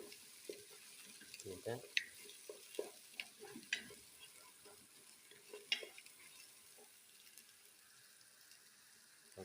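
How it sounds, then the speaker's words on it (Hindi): Mutton and lauki curry is stirred and fried in a pan, with repeated clattering scrapes of a spoon over a quiet sizzle, fading toward the end, and one brief spoken word. "और इसको अच्छी तरह हिलाना है और भूनना है, अच्छी तरह फ्राई करें।"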